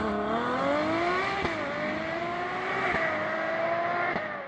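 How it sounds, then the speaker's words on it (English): A high-revving naturally aspirated Ferrari V12 engine roars continuously, its pitch climbing and briefly dipping between gear shifts, loud and close with no voices. "the naturally aspirated V12 that powers Ferrari's higher-end cars is, well, the best combustion engine"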